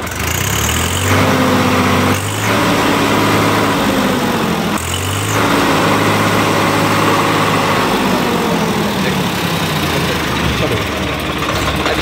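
A Swaraj 855 FE tractor engine with a changed silencer runs loud and close for the whole stretch, its note rising and falling as the throttle is revved up and down, with brief voices over the steady rumble.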